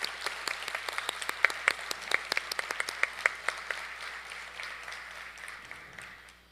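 Audience clapping for musicians at an Arangetram dance recital, a sparse scatter of individual claps that builds and then thins out to a fading patter.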